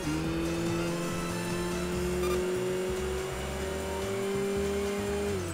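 Race car engine accelerating in the Enthusia racing video game, a loud steady high-pitched engine note climbing under power for several seconds with steady road and tire noise beneath, no talking.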